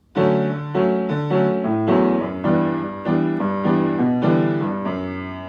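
Piano playing the bridge chord progression of a song, roughly eight chords struck in a steady rhythm, close and clear with no voices.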